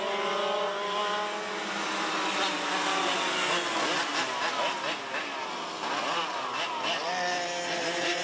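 Racing go-karts at Forks Karting Speedway drone continuously, several high-revving engines rising and falling in pitch together as they pass, while a commentator speaks over the noise.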